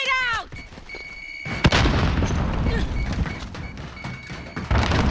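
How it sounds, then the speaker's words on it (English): A grenade goes off in Call of Duty Warzone: a sharp, heavy boom bursts in after a short lull, followed by dense, continuous battle noise that stays loud to the end. "Grenade out!"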